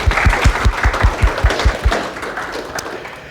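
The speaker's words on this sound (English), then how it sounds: "Maybe let's give them applause anyway." A seminar audience claps in a quick rhythmic run of loud, close hand claps that thins out and fades after about two seconds.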